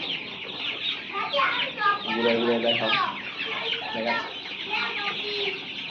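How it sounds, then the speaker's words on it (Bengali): Broiler chickens on a farm of about 500 birds cluck and chatter close by in overlapping bursts, while a person speaks briefly. "তো মুরগিগুলো আপনাদেরকে দেখাবো, ঘুরিয়ে ফিরিয়ে দেখাবো"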